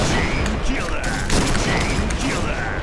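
Gunfire striking the player in the first-person shooter Point Blank, a dense, continuous barrage of shots with crackling impacts running throughout, loud and close, mixed with game noise and someone talking.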